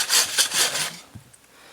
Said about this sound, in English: sawing some wood